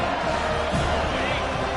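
Football stadium crowd roars in a continuous dense wash of cheering and shouting, loud and steady throughout the short stretch, with commentary speech faintly mixed beneath.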